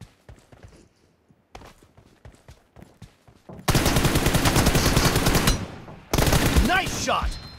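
M416 rifle fire in PUBG Mobile: scattered footsteps and single shots at first, then two long, loud, sustained automatic bursts with a brief gap between them.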